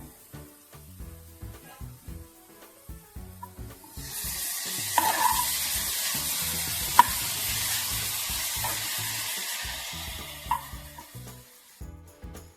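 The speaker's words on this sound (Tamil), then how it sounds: "அப்படி நெய்யிலே வறுத்துருங்க." Two large beetroots fry in ghee in a pan, a loud, continuous sizzle with a few clinks of stirring, preceded and followed by quieter rhythmic tapping.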